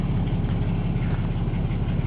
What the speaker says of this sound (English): This truck runs very good.